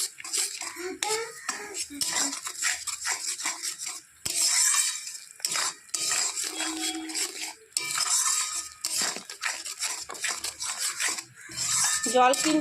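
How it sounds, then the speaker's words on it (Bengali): A grinder jar holding leftover cashew and mustard paste is rinsed and swirled with a little water, giving close, continuous rubbing and scraping with short clinks, steady and moderately loud throughout. "তো জারটা ধুয়ে একটু জল দিয়ে দেবো এটাকে একটু নেড়ে জেড়ে নেব"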